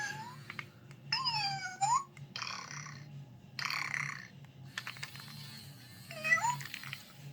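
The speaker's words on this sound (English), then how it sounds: "he goes meow" Marty, a toy cat, lets out a series of short electronic meows with rising and falling pitch, spaced apart by brief pauses and heard up close with no talking.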